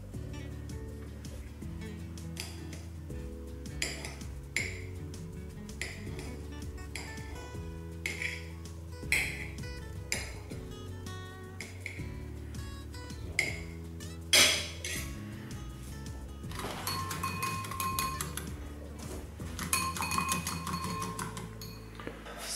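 Kitchen prep for sorrel soup, with eggs being readied and flour dissolved: steady clinks and clatters of dishes, cutlery and glassware over a constant background hum, with brief busier bursts of handling near the end.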